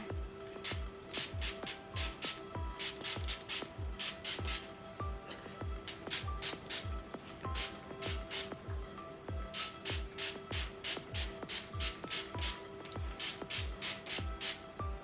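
Rapid bursts of a trigger spray bottle misting water onto hair, quick hissy pumps in steady clusters, close and fairly loud, with no talking.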